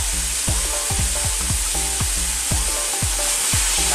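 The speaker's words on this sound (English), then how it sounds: "Stir it." Crab simmers in coconut milk in a pan, sizzling loudly and steadily while a spoon stirs in quick, even strokes about three times a second.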